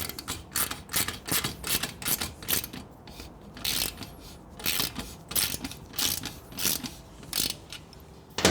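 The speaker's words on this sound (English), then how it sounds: "socket. Tighten up the clamp." A socket wrench tightens the exhaust clamp on a Triumph Bonneville T100/T120 GP exhaust install, ratcheting in a fast, loud, rhythmic run of clicking strokes close by, with no talking.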